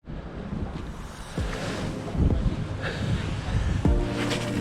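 Bitterly cold wind buffets the microphone beside flooded water on a pike fishing trip, a steady rushing roar with gusty thumps and faint lapping water throughout.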